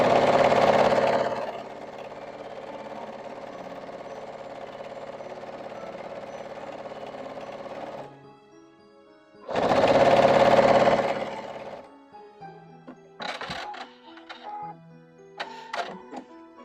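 A sewing machine stitches quilt pieces for a wonky Halloween house quilt, running in a steady loud whir, pausing briefly, whirring again, then giving way to quieter clicks and handling knocks.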